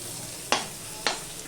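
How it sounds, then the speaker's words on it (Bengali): Constant hiss of garlic and onions frying in hot oil, broken by two quick scraping stirs against the pan. "পেঁয়াজটা লাল লাল করে ভাজা হয়ে গেলে আমি রসুনটা দিয়ে দিলাম"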